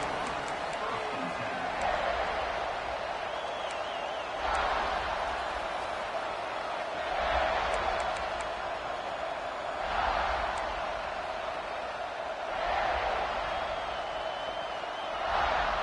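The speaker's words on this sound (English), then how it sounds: "This crowd ready to make its presence known." A packed stadium crowd at a South Carolina vs Tennessee college football game keeps up a steady, broad roar that swells in waves. Commentators talk over it throughout.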